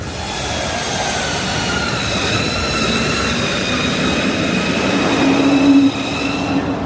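A New York City subway train rumbles loudly on its way from Brooklyn to Manhattan, with high metallic wheel squeals ringing steadily over the clatter and a brief sharper screech near the end.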